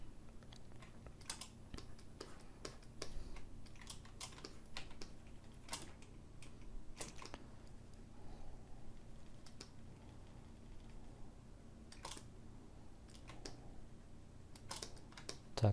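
Computer keyboard keys are pressed in scattered, faint clicks and taps over a quiet low hum, with occasional quicker clusters of keystrokes.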